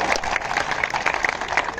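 An audience at an event applauds loudly, dense overlapping claps with sharper bursts scattered through the steady roar.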